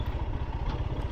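A motorcycle ridden down onto beach sand, its engine a steady, mid-pitched rumble with a slight clatter, close by and running alone without talk for about a second.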